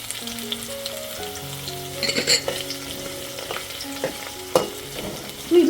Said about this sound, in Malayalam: ഇതിൻ്റെ പച്ച മാറണം പച്ച മാറുന്നത് വരെ എണ്ണയിൽ കിടക്കട്ടെ